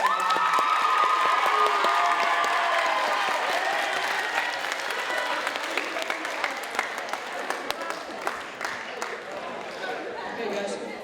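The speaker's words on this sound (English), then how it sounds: "Please give the teachers a round of applause." Applause and cheering for teachers at a school STEAM expo evening, loud dense clapping with shouts from children and adults that gradually thins into scattered claps and chatter over about eleven seconds.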